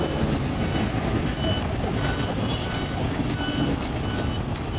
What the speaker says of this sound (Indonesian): Ini yang mobil truk tangki mundur ya